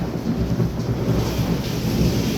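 A heavy thunderstorm with rain and wind over Wankaner during a power cut, a dense, continuous roar of downpour and rumbling thunder with gusting noise, loud and unbroken.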